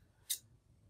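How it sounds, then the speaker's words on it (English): A single short snip as scissors cut a small piece of foam for a handmade slider card, a crisp close cut in an otherwise quiet room. "So I'm just going to cut a little piece of this"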